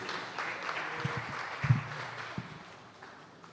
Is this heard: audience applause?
yes